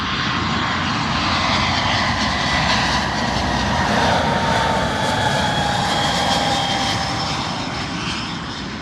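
A large passenger airliner lands at London Heathrow Airport, its engines roaring loud and steady throughout with a high whine gliding slowly downward, close and continuous with no talk.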